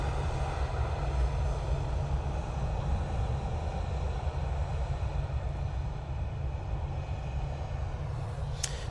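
A Ryanair airliner arriving from Dublin at Manchester Airport gives off a steady, broad engine roar that holds at an even level throughout, with no voices over it.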